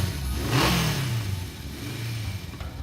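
A motorcycle engine revving in the video game Steins Gate 0 as a rider sets off from a parking lot, rising and falling throttle pulls with a steady engine drone, no talking.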